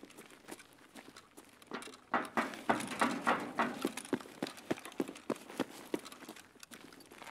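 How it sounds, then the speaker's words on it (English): Footsteps in a video game, a run of sharp, evenly spaced steps that grow louder and quicken, patter-like and close, with no talk over them. "Keep hearing residual footsteps, but it clearly it's just mine."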